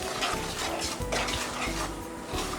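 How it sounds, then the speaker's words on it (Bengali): Sugar and jaggery being stirred into hog plum pickle in a pot, with repeated close scraping and clattering strokes of a spoon over a dense, bubbling background and no speech. "আমি চিনি এবং গুড় দুটি মিক্স করে দিচ্ছি"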